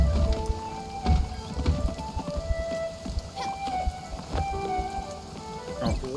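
Rain falls steadily in a video game, a continuous patter of drops with occasional heavier splashes, mixed with soft tonal game sounds in the background.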